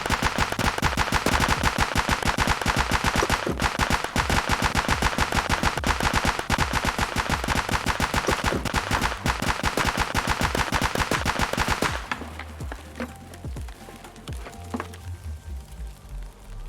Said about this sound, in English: there is a scav player on the rogue gun just shooting at the moment